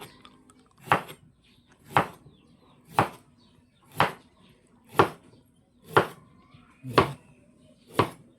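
A knife slices radish on a cutting board for pork sinigang, giving eight crisp, even chops roughly one second apart, close and clear over a quiet kitchen background.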